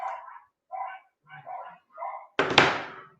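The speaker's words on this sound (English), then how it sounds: "So they're barking." Several dogs bark outdoors in a series of short, separated woofs, about five clear barks, ending in a louder, harsher burst that carries close to the listener.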